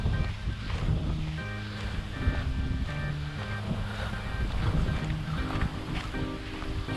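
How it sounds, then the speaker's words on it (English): Wind blows at the beach, a loud, steady rumble buffeting the microphone with waves washing underneath, while background music plays. "That wind is not helping at all."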